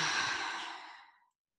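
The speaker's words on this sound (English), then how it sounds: "Take another round of deep breaths in and deep breaths out." A single deep, slow breath out during a guided meditation, a soft airy exhale that fades away into silence after about a second.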